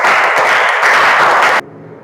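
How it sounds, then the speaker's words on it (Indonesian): Students in a classroom applaud a presenting group with a burst of loud, dense clapping for about a second and a half that cuts off sharply, leaving a quiet room. "kita beri tepuk tangan untuk kelompoknya Farel."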